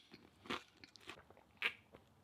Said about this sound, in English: So I'm going to keep munching away.